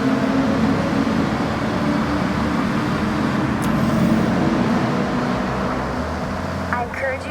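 A steady, loud car engine roar echoes continuously through a tunnel in the video game Forza Horizon 6, with a dense rumbling drone and a faint tonal chirp near the end.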